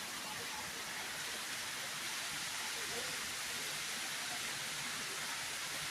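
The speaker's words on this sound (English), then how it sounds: "Raining with the sun" Steady rain falling in bright sunshine, a dense even hiss that stays constant throughout, with no distinct drops standing out.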